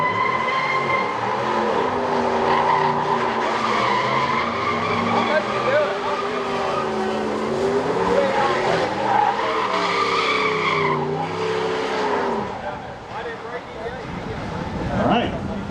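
A Dodge Mopar car does a long burnout at a Chrysler Nationals contest in Carlisle, PA, its tires squealing continuously at high volume with a droning engine underneath and crowd voices mixed in.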